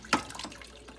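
Water poured into a cooking pot of boiled turnips during a turnip-and-meat curry preparation, a brief close splash at the start trailing into faint trickling and sloshing, with no talk over it.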